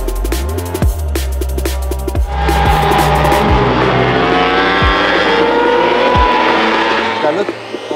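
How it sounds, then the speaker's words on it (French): Racing motorcycles at a 24-hour endurance race (24H Motos) scream past one after another in several quick Doppler passes. A loud engine drone runs throughout, and voices talk over the noise. "il y a Joe qui arrive dans la chicane"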